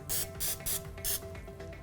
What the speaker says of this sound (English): take a little cooking spray, whatever you got, and you just want to, just very gently, spray around the inside